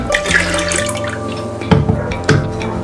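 Water pours and trickles from a jug into a cooking pot while dal and rice are being made, a steady close splashing with a couple of louder sloshes, no talk.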